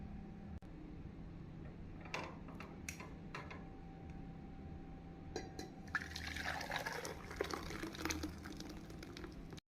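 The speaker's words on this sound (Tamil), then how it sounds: "நாம் ரசத்தை எலுமிச்சை சாறுடன் கலந்து விடலாம்." Lemon juice being stirred into freshly boiled lemon rasam gives soft, quiet liquid sloshing and trickling, growing a little busier toward the end, faint and close with steady background hum.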